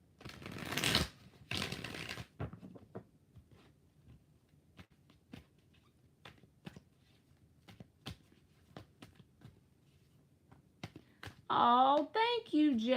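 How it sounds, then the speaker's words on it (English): A tarot deck is shuffled with two loud riffling bursts up close, followed by a scattering of light card taps and flicks, and then a voice speaks briefly at the end. "1 more shuffle"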